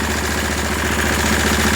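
A heavy walk-behind tractor engine idles while warming up in frosty weather, a loud, close, steady low rumble with constant vibration and no talking.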